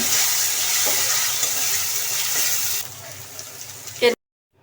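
Ground turmeric stirred into sizzling ginger-garlic paste with onion and chilli for a country duck curry, a steady close frying hiss that drops quieter partway through, ending with a brief clatter.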